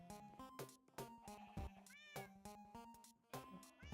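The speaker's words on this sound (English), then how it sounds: "And cats." Cats meowing in a video game, several bright, loud meows in quick succession over a layered electronic musical background.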